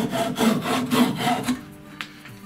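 A hand saw rasps through wood in several quick back-and-forth strokes, close and rhythmic, then slows and stops.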